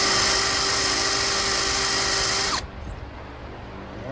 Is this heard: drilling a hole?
yes